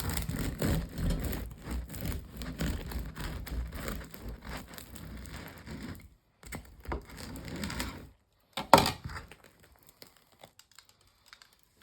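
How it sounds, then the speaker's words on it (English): A knife saws into a crusty light rye and wholemeal sourdough loaf with pumpkin and sunflower seeds, giving close rhythmic crackling and scraping strokes, a pause, then a final sharp crunch and a few faint crumbly taps. "So we'll just cut into it and see what we've got."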